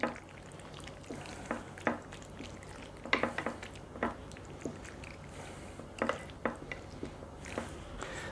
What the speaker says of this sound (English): I'm going to take this and I'm going to press this down into my casserole dish